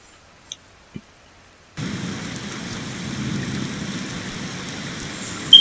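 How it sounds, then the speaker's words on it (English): Steady rain and a low stormy rumble fill a dark London street after a second or two of near silence broken by a couple of soft taps, with a sharp crackle at the very end. "On the dark and rainy street of London"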